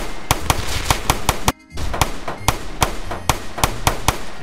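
Gunshots ring out in a Roblox street shootout set in the Bronx: sharp, loud, evenly spaced cracks fire in rapid single shots, broken once by a brief near-silent gap before the shooting resumes.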